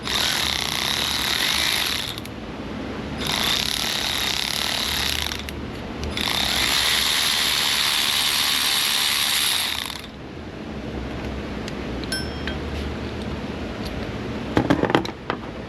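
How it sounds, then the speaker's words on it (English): Metal pulley spacer from a GM 5.3 engine being unthreaded with pliers, giving long bursts of steady ratcheting, grinding mechanical noise, pausing briefly between bursts, then quieter clicks and a few sharp metallic taps near the end. "I'll hold onto it with some pliers, and we're just gonna unthread it."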